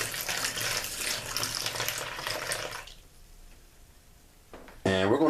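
Milk pours into a mixing bowl of Salisbury steak mixture in a home kitchen, a steady splashing stream for about three seconds, then quieter until a voice begins speaking at the end.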